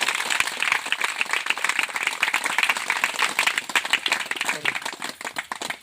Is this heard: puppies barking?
no